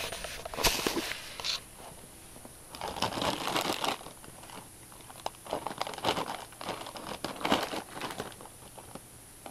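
A plastic Sour Patch Kids Tropical candy bag crinkles and rustles in bursts, close by, with several short snips and crackles as it is cut open.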